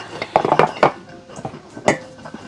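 Soto spices being stir-fried in a pan for a chicken-feet soto, heard as a run of scraping and clinking utensil strikes against the pan with sizzling between them, under intermittent voices talking.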